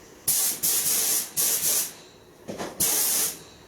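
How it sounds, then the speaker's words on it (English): Compressed air hissing from a spray gun during interior paint work on a Triumph GT6, in several loud, steady bursts of about half a second to a second, separated by short pauses, close and with no talking. "Come on, compressor, kick in."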